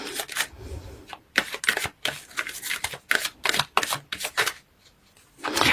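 Tarot cards are shuffled and pulled in quick bursts of crisp riffling and slapping, several rapid clusters separated by short pauses, close and fairly loud.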